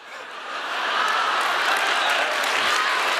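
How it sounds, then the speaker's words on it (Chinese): An audience at a Deyunshe crosstalk comedy show applauds, the clapping swelling quickly into a dense, sustained roar of many hands that holds steady to the end. "别鼓掌了，别鼓掌了"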